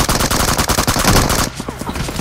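Rapid bursts of automatic gunfire in a 4v4 shooter video game, loud and continuous for over a second before dropping to scattered, fainter shots under brief talk.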